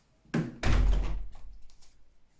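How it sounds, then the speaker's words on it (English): An indoor door is pushed shut with two soft, close thuds in quick succession, followed by a brief low rumble that fades out. "I close the door."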